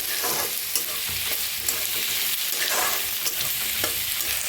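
Onions fry in a pan with a steady, close hiss of sizzling oil, broken by scraping stirs that come every second or so, loud and continuous with no talking.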